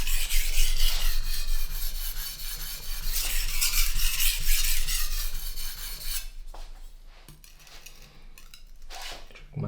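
A knife blade drawn repeatedly across a whetstone, producing loud, close, gritty rasping strokes in a steady back-and-forth rhythm, then shorter, sparser scrapes with brief pauses near the end; no voices.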